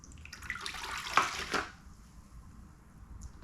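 Warm water running and splashing from a tap into a container for mopping a garage floor, with a louder burst of gushing in the middle before it tapers to a quiet trickle.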